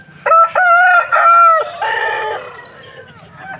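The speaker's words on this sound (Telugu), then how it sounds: "కోడిపుంజలు అయితే చూసుకోవచ్చు చాలా బాగున్నాయి" Roosters at a rooster market in Vijayawada, one close, loud crow with a long drawn-out cock-a-doodle-doo followed by softer clucking.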